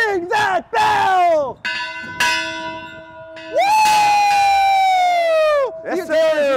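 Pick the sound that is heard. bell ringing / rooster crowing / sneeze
bell ringing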